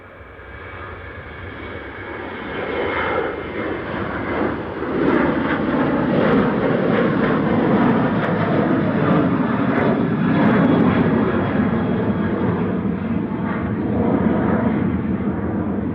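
A Ryanair Boeing 737-800 operated by Malta Air departs Manchester Airport for Madrid with a loud, steady jet roar that builds over the first few seconds and then holds at full strength.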